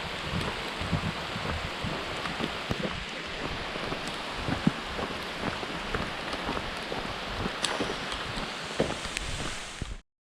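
Steady rain falling outdoors on the Appalachian Trail near McAfee Knob, Virginia, a constant dense patter with scattered louder drops and some wind buffeting, continuous for about ten seconds and alone without voices.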